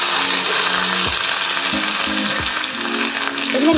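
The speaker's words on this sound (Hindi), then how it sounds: "अब इन्हें हम थोड़ा सा भून लेते हैं।" Ginger, green chilli and asafoetida fry in a pan with a steady, loud, broadband sizzle, broken by a few faint low knocks and scrapes of stirring.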